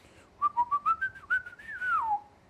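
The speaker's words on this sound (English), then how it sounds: "I'm an acceptable whistler" A person whistles a short, clear phrase up close, a quick run of separate notes rising and falling, ending in a longer sliding note.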